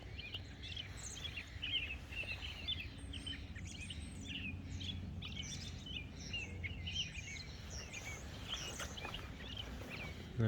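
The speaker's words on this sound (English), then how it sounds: "The birds are sounding beautiful." Birds chirp and sing continuously in a flowering orchard of peach trees, many small calls scattered at a moderate distance over a steady low outdoor background, with no talking.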